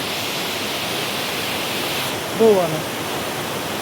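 Rushing mountain water at the source of a stream in an untouched Kashmir village, a steady broadband roar filling the whole clip, with a brief voice speaking over it near the end.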